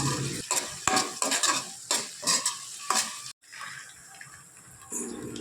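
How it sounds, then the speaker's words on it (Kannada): Mustard seeds, onion, curry leaves and green peas frying in hot oil in a pan, a loud crackling sizzle broken by scraping stirs, then a quieter steady hiss after a short pause. "ಈಗ ಒಂದು ಬಾಣಲಿಗೆ ಎಣ್ಣೆ ಹಾಕಿ ಎಣ್ಣೆ ಕಾದ್ಮೇಲೆ ಸಾಸಿವೆ ಈರುಳ್ಳಿ ಕರಿಬೇವು ಹಾಗೆ ಹಸಿ ಬಟಾಣಿ ಹಾಕಿ ಮಿಕ್ಸ್ ಮಾಡ್ಕೊಳ್ತಾ ಇದ್ದೀನಿ"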